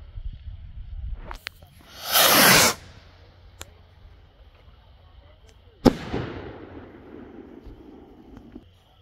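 A Master Ballistic red firework goes off with a loud rushing burst lasting under a second. A few seconds later comes a sharp, single bang, followed by a fading crackle and rumble.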